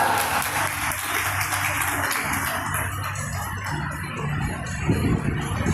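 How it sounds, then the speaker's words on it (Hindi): An audience at a school student-journalist competition applauds a contestant, a broad continuous wash of clapping heard at moderate level with faint crowd noise beneath, steady over several seconds. "तो जोरदार तालियों के साथ स्वागत करते हैं आज के प्रतियोगी क्रमांक 1 गरिमा झा का।"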